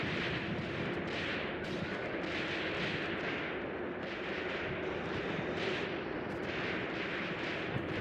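Gunfire with blanks in Tank Warfare: Tunisia 1943 cracks in steady, evenly spaced bursts over a constant loud battle roar, with no break across the whole stretch.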